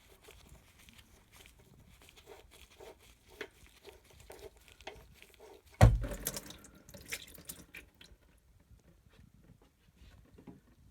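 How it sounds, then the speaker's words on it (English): Engine oil from a BMW E60 M5 runs out of the drain hole into a pan, a faint, steady liquid patter and trickle with one sharper splash midway, then tapering off to quiet. "Oil pouring out."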